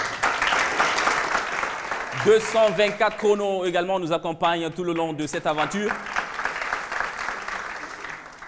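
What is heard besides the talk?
audience applauding the partners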